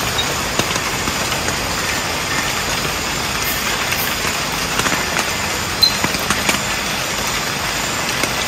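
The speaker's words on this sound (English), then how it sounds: "It's raining now in Bau" Rain falls steadily at a solo campsite at Serembu Eco Park in Bau, Sarawak, Malaysia, a continuous hiss with scattered drips and patters landing nearby.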